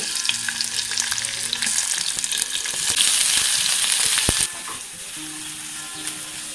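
Lengthwise-sliced onions frying in hot oil in a kadhai make a loud, dense sizzle with faint stirring scrapes, dropping to a softer, steadier fry partway through, with no talking.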